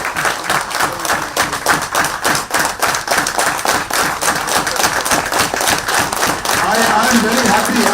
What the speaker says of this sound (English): I'm very happy to see this applause.